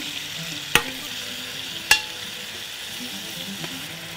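Shrimp sizzle steadily in a hot pan, with two sharp clacks of a utensil striking the pan as it is stirred, then a continuing fry; no speech.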